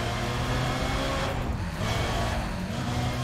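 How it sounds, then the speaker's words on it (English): Car engine in the Need for Speed ProStreet racing game during a high-speed grip race, a loud continuous engine roar that dips briefly mid-way and then climbs again, with no talk over it. "I really love the sound of that car."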